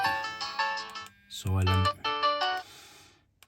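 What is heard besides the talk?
imo dash 4G phone ringtones and alert tones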